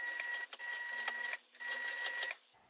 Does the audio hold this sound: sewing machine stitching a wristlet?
yes